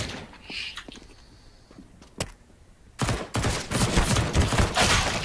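Gunfire in CS:GO starts with a few sharp isolated shots and clicks, then breaks into a dense, loud burst of rapid automatic fire that runs to the end.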